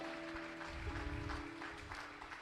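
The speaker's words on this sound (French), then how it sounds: "Acclame la parole de Jésus-Christ de Nazareth." A church congregation applauding during an evening French-language sermon, a steady distant patter of clapping hands heard briefly and faintly.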